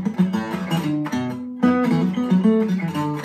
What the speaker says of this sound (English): all I did was this sort of pentatonic riff